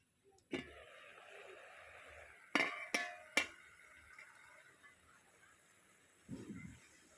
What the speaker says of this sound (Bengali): ঢাকনা খুলে একটু দেখে নেব